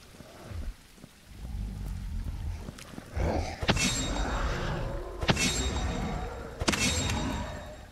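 Steady rain pours in a classic video game, with sharp thunder-like cracks and bursts breaking through the constant hiss at a few points. No one speaks.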